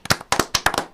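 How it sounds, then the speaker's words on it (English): Sharp hand claps ring out close by, about half a dozen quick, slightly uneven smacks in a brief burst. "can I get a round of applause?"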